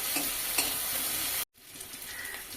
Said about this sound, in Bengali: আবারও কিছুক্ষণ ভেজে নেব, যতক্ষণ না টমেটো নরম হয়ে গলে যায়